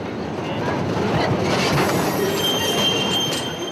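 A freight train heading north with migrants aboard rolls past with a steady heavy rumble and high metallic wheel squeal running throughout, loud and close.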